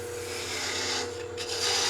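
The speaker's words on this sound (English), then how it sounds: "get a little deeper with the 1/4 inch spindle gouge, remove a little more wood" A 1/4 inch spindle gouge cutting into wood on a lathe while turning a wooden spin top, a continuous close rasping scrape with a low steady motor hum underneath.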